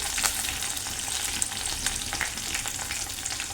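Spiced puffed rice (mandakki khara) with coriander and garlic being stirred in a hot pan, a soft continuous sizzle broken by light scraping and rustling strokes, close and fairly quiet.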